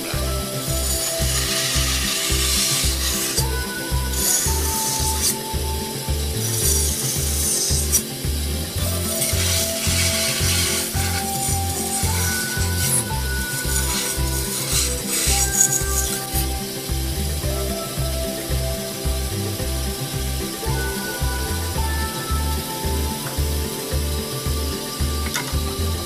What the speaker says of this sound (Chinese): 这里我们使用向中心切削的方式，分次从不同角度往内切，让我们的小圆弧能够顺利切削出来。